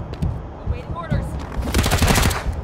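Dense video-game gunfire from Wasteland 3, rapid overlapping shots building into a loud continuous burst, with a voice speaking over the start.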